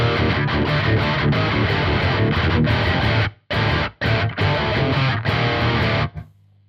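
A distorted electric guitar played through a Victory Super Jack V130 amp chugs loud, heavy metal riffs with sharp stops, then cuts off and leaves a quiet hum.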